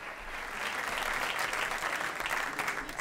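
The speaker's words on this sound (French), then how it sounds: "Merci encore d'applaudir très fort." An audience at a francophone film awards ceremony applauds, dense sustained clapping from a large crowd that swells slightly and holds steady throughout, loud and close with no speech over it.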